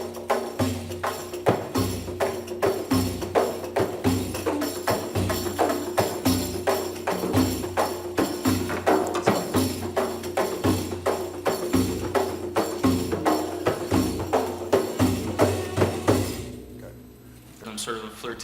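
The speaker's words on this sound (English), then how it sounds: "an ensemble of 3 percussionists playing exactly the same rhythm together" Three percussionists play the same 3-3-2 belly dance rhythm in unison, steady repeated drum strikes in a driving loop, loud and continuous, stopping near the end.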